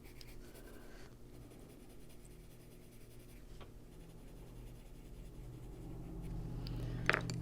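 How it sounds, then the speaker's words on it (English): An eraser rubs steadily over colored pencil on paper in an adult coloring book, a continuous close scratchy friction that grows slightly louder toward the end. "We're just going to go over that and erase it."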